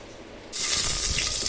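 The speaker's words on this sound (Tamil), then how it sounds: "நல்லா வேக வச்சு தண்ணியை வடித்தோம்னா இந்த புளிச்சக்கீரை இந்த மாதிரி இருக்குங்க" Water pours and drains from boiled sorrel leaves (pulicha keerai) in a village kitchen, a steady loud splashing rush that begins abruptly halfway through and continues alone.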